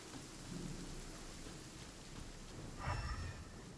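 Thunderstorm in the video game Genshin Impact: continuous rain hiss with low thunder rumbles, a louder crack-like swell near the end, no talk.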